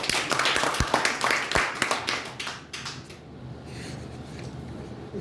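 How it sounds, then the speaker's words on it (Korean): Clapping from attendees at an annual general meeting and awards ceremony, a scattered burst of individual claps at close range that thins out after a few seconds, with no talk. "박수 한번 보내시죠."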